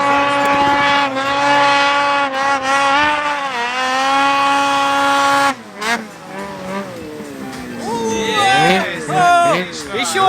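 Snowmobiles racing across open water at a watercross event, their engines whining loud and close, the pitch climbing and dropping as they rev, then breaking into several overlapping, wavering tones as more machines pass. People talk over the engine noise.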